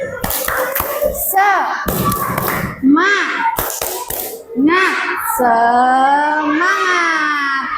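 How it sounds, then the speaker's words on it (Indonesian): Grade 2 schoolchildren perform the tepuk semangat clapping chant with their teacher in a classroom: sharp bursts of hand claps in rhythmic groups alternate with loud chanted and sung children's voices. "kita tepuk semangat dulu agar lebih semangat. Tepuk semangat"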